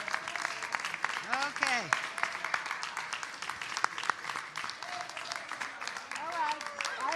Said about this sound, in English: I expect the same round of applause